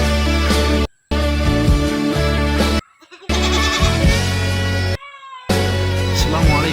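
Jawa Randu goats bleating at a small home goat farm, loud layered calls following one another almost without pause, with brief silent gaps between them.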